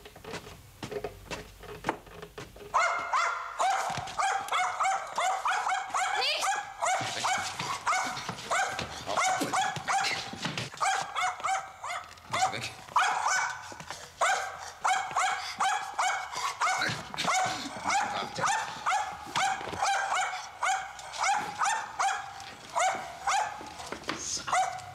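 A confiscated dog barks repeatedly in a police scene, sharp close yaps and barks coming in quick bursts that fill the whole stretch, with almost no talk.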